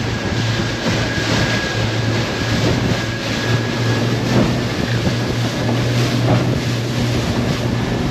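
Panga boat motoring offshore at speed, a steady loud engine drone with rushing water and wind buffeting throughout, no voices.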